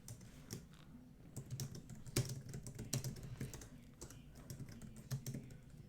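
Typing on a computer keyboard during coding and bug-fixing work, with irregular bursts of close, crisp key clicks and a few louder taps, alone without speech.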